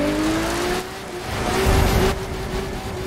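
A rear-wheel-drive Porsche engine drones loudly in the racing video game The Crew 2, pitch sliding as it accelerates, with a swell of tire and road roar midway.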